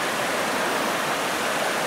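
Steady, continuous rushing water, like a creek flowing over rocks, close by with no other sounds.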